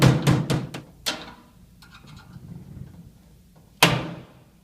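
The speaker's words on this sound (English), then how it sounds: "we're going to put the screwdriver into the empty space, and using the hammer, knock out the hinge pin" Several sharp metallic hammer blows strike a screwdriver against a lid hinge pin on a rectangular stainless steel can, a quick cluster of four or five, then a pause and one final loud clank.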